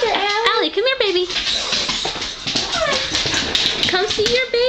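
Excited pet dogs meeting a new baby give constant high whimpers, whines and yips, close and insistent. Someone speaks to them over the noise throughout.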